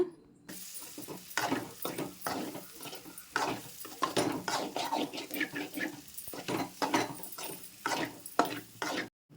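A spoon stirs fresh coriander through chicken fry curry in a pan, giving repeated scraping and clattering strokes in an uneven rhythm over a soft sizzle, close and fairly quiet.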